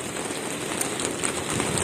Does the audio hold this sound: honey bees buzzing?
no